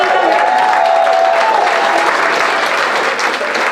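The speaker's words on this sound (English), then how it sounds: "let's give him some applause" A gala charity auction audience claps loudly and steadily for a bidder, a close, sustained wash of applause with only faint voices underneath.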